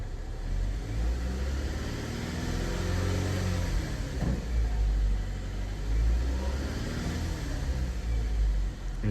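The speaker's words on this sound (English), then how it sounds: "I'm going to give it some RPM now." A car engine revs up and down in a steady rumbling drone, rising twice in pitch and easing back, close and continuous.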